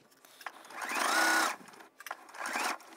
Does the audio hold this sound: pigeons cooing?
no